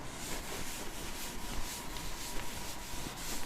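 Steady dry rubbing of a duster or cloth across a board to wipe off written circuit equations, a continuous close scrubbing with rhythmic strokes and no talk.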